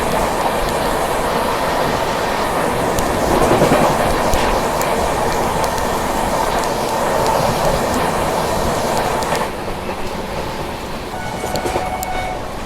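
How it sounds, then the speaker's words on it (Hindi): Sealdah Rajdhani express train passing alongside the Jammu Mail: a loud, continuous rush of wheels and carriages with steady clickety-clack, a brief horn-like tone and faint wheel squeal, easing slightly near the end. "ये मेरे ख्याल से सियालदह राजधानी अभी क्रॉस हो रही है हमसे"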